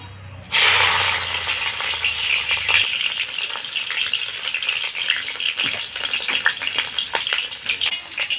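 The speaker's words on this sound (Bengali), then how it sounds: "প্রথমে আমি উচ্ছেগুলোকে ভেজে নেব।" Pieces of bitter gourd hit hot oil with a sudden loud sizzle, then keep frying in a steady hiss broken by sharp crackles and pops.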